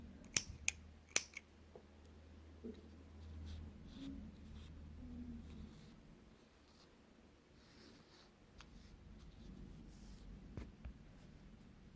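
Crochet thread snipped with scissors, a few sharp, close clicks near the start followed by quiet handling rustles and soft taps.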